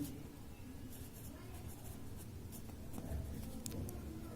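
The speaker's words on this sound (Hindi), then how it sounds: "तो सबसे पहले हल लिखते हैं" A pen scratches out a handwritten solution to a class 8 math problem, giving soft, continuous scribbling strokes close to the microphone over a low room hum.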